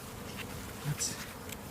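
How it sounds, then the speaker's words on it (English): Steady low buzzing of many honey bees close by in an open hive, a continuous drone with a few brief louder swells, no voices. "You can see all these bees doing their business."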